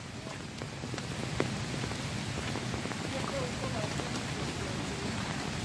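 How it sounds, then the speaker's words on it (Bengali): Rushing water from a forest waterfall at Dhangikusum in Jhargram roars as a dense, continuous wash, loud and steady throughout with no pauses. "দারুণ একটা আওয়াজ আসছে ঝর্ণার।"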